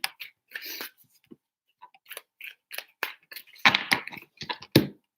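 Tarot cards are shuffled in three bursts of crisp, papery riffling and snapping, close and dry, separated by short pauses of silence.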